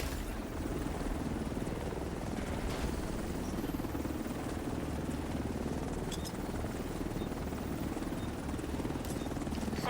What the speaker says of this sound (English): Helo arrived.